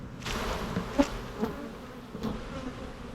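Steady buzzing of many bees close by around a hive as they are jolted off, with individual insects droning louder for a moment as they pass near.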